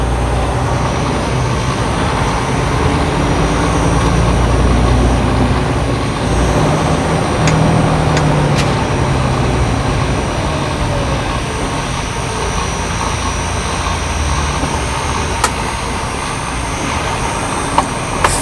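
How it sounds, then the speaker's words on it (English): A loud fan roars steadily inside a truck cab, a constant broadband whoosh that holds for the whole stretch with only faint clicks and rattles on top. "Stupid fan."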